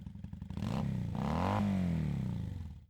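A motorcycle engine revs up loud and close, its pitch climbing through a sustained rising whine, then eases back down, with no talk.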